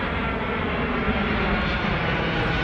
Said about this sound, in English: I'm just curious why you need this big old plane.